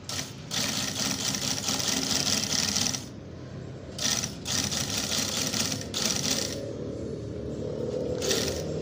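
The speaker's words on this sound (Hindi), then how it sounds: "सारी लगाने के बाद हमने इसको यहाँ से फिर से वापस सिलाई ले जाना है" A tailor's sewing machine stitches cloth in bursts of steady mechanical whirring, with brief pauses between runs of stitching and a quieter hum continuing near the end.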